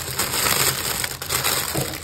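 Scissors snipping and crunching through a cardboard package, a dense close crackle of cutting and crushing that runs steadily for a couple of seconds with no voices.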